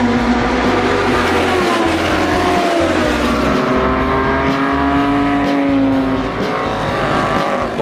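Classic 1960s-era racing cars at the Espiritu de Montjuic festival roar past close by, one engine note rising and falling steadily while others rumble, loud and continuous with no talking.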